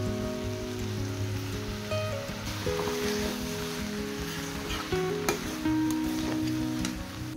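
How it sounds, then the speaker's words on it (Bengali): Shrimp tipped into bottle gourd already cooking in a pan, giving a steady close sizzle and bubbling hiss throughout, with small clatters and stirring noises on top. "এবারে লাউয়ের মধ্যে আমি চিংড়ি মাছগুলো দিয়ে দিচ্ছি"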